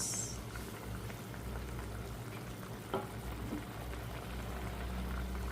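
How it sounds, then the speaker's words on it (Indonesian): Pot of sweet chicken curry at a rolling boil on the stove, a dense, steady bubbling and popping hiss that stays even throughout, close and moderately quiet. "Nah, ini udah mendidih guys."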